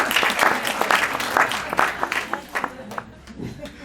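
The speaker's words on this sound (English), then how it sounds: "could you please give me a clap for getting through all those names?" An audience at a Slovenian Statehood Day anniversary event in a parliament house claps in a lively burst, individual hand claps audible in a dense patter that gradually thins out.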